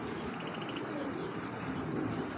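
Game pigeons kept in a loft coo softly and repeatedly against a steady background hum, with faint chirps mixed in and a little talk nearby.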